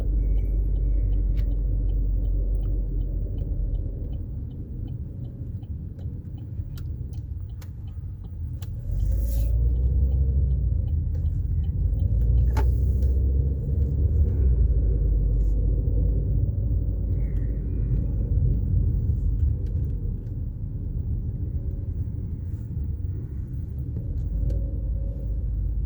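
A car rolling slowly into a veteran parking spot, heard as a low steady engine rumble from inside the cabin, with a few faint clicks and knocks and no voices.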